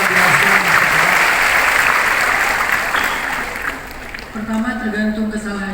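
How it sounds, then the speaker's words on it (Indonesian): Audience applause fills a hall at a religious lecture, a dense clatter of clapping that fades after a few seconds as a voice speaks over it. "Tepuk tangan dong buat Mbak Rani, luar biasa."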